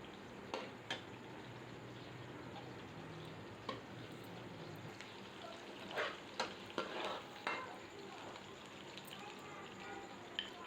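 Sliced onions frying in a pan give a soft, low sizzle broken by scattered clicks and scrapes of a spoon stirring, all fairly quiet and close.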